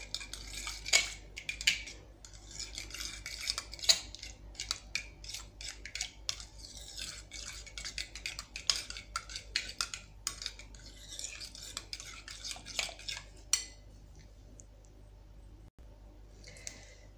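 A spoon stirs a teaspoon of mustard into a dressing in a bowl, giving steady metal scraping and clinking close by. The taps are quick and irregular, and the sound goes quiet near the end.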